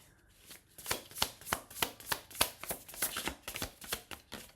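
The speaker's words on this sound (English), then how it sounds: "Bunch of cards falling out." A deck of tarot cards is shuffled by hand, with cards slipping out of it. A rapid series of soft, crisp slaps and riffles, about a dozen close strokes in quick rhythm, plays at low volume with no voices.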